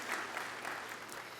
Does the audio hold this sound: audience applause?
yes